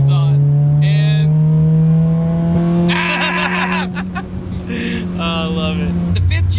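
A Honda Prelude's 2.2 liter engine holds a strong, steady tone, then rises as it revs under acceleration, with people talking over it.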